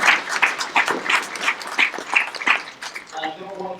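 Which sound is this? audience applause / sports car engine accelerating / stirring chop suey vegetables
audience applause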